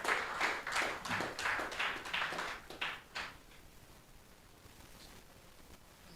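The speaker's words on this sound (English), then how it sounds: "A round of applause for him." Applause at an agribusiness innovation award ceremony, a modest scattered round of clapping for about three seconds that dies away into quiet room tone.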